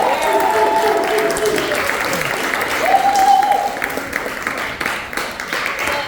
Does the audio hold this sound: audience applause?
yes